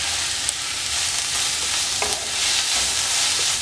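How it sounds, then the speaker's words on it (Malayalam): Vegetable spring roll filling being tossed with pepper and soy sauce: a dense, close hiss of cooking with a few soft scrapes and taps as it is mixed, steady and without voices. "ഇത് നല്ലതുപോലെ ഒന്ന് മിക്സ് ചെയ്ത്"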